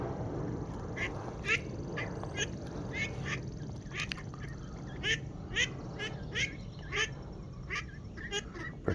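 Ducks quack repeatedly in short bursts over a steady background rumble, loud and close, with no talking.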